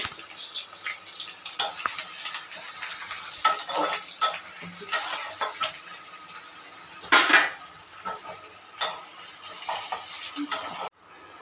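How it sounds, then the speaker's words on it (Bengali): Chopped onions sizzling in hot oil, a steady moderate frying hiss with scattered crackles and stirring clatter, ending abruptly. "এবার আমি পেঁয়াজটা তেলে দিয়ে দিচ্ছি।"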